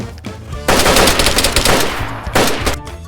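Rapid automatic gunfire from the DayZ survival game rattles in dense bursts, loud and close, with sharp overlapping shots filling the clip.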